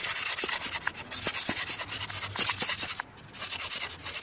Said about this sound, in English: it's kind of catching the sandpaper, slowing it down, so it's definitely wearing and tearing on that rubber seal